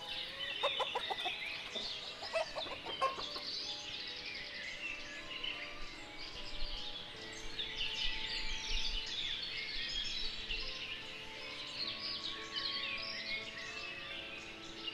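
Chickens cluck in a farm village in the video game Ostriv, a continuous layered chorus of clucks and chirps at moderate distance, fairly faint and without speech.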